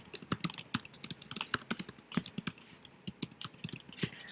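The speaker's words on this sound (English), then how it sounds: "I can start typing" Rapid, uneven typing on a computer keyboard, a steady run of close, crisp key clicks with small pauses, with no voices.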